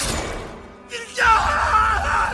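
A voice actor in an English-dubbed anime lets out a loud, strained scream. It breaks out after a short vocal burst and a brief pause, then holds for about a second.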